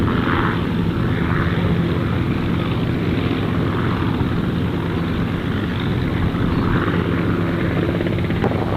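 A helicopter on short final approach to the helipad at Gold Coast Airport, its steady rotor and engine roar loud and continuous throughout, with no voices heard.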